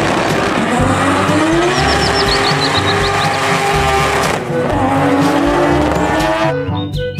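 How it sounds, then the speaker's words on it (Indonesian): A race car roars past with sustained engine drone and sharp tire squeals, loud and close, the engine note rising and falling before cutting off abruptly. "Wow, lihat di sini ada mobil balap."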